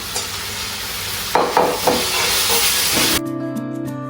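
Vegetables sizzle and hiss loudly in a hot pan for vegetarian pasta, with occasional stirring scrapes, before the sizzle suddenly drops away.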